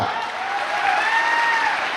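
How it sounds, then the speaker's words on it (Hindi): A seminar crowd bursts into loud applause for a guest speaker, many hands clapping in a dense continuous roar for about two seconds. "मैं चाहूंगा उस सर के लिए जोरदार तालियां।"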